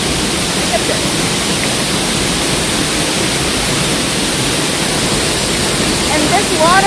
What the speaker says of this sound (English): this waterfall is not even a mile from the parking area, so it's an easy access